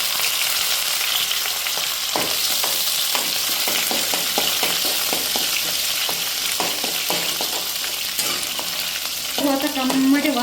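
Onions and curry leaves fry in hot oil for chintha rasam, a steady dense sizzle with a run of sharp stirring clicks and scrapes in the middle and a brief louder crackle near the end, no voices.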